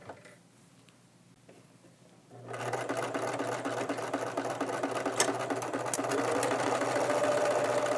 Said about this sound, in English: Let me do a little stitching here.